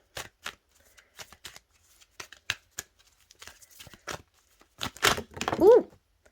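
Oracle cards from an Angel Prayers deck are shuffled by hand in a quiet room, giving a string of short, sharp riffling bursts that end in a louder, denser flurry of card flutter.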